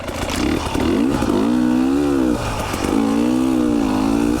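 A KTM 300 two-stroke dirt bike engine drones loudly and close, its pitch rising and falling as the rider moves between third and second gear, with a brief dip between the pulls and no talking.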